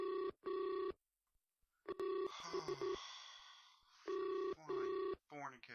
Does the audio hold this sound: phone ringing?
yes